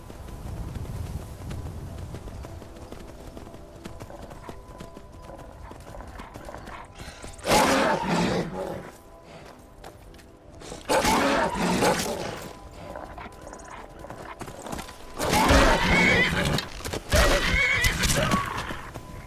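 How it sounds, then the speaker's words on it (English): A horse in the video game Skyrim neighs and whinnies in loud bursts over a steady clatter of hooves. The whinnies come in three strong outbursts spaced several seconds apart. "My horse is kicking more ass than she is."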